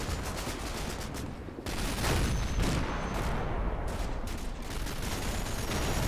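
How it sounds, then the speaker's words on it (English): Mortar and gunfire barrage in the Combat Mission Battle for Normandy war video game, a dense, continuous roar of overlapping blasts and crackling shots with no letup and no voices. "it looks like mortars are coming down that tank destroyer"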